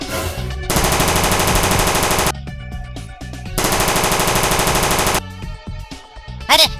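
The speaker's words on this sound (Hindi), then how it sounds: "जैसे ही कलवा को बंदूक के गोलियों की आवाज सुनाई देती है तो वो डर जाता है" Gunfire during an attack on a school in the animated cartoon Kala Kaddu: two long, loud bursts of rapid machine-gun shots, separated by a pause, followed by scattered sharp impacts and clatter.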